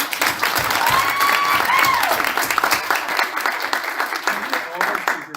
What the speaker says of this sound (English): Can we get a round of applause for everyone?